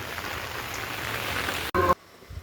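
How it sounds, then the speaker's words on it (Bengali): Heavy rain pours steadily near a roadside market as a dense, even hiss, cut off abruptly near the end by a brief louder burst. "বৃষ্টি আরও জোরে হচ্ছে"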